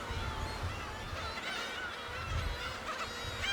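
Black-tailed gulls calling on Dokdo island, a dense chorus of overlapping mewing, honking cries over a constant wash of wind and surf, steady and moderately loud.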